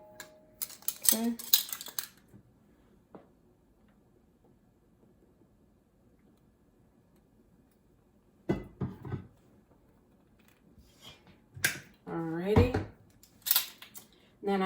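Metal cutlery clatters and jingles in bursts as someone rummages through a drawer for a teaspoon, with long quiet gaps between rattles and a voice speaking in between.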